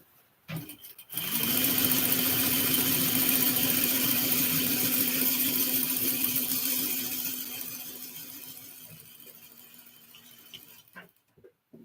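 A sewing machine stitches a Hawaiian shirt, starting with a couple of short clicks, then running in one long continuous steady whir with a fine mechanical hum that slowly fades as it stops, followed by a few light taps.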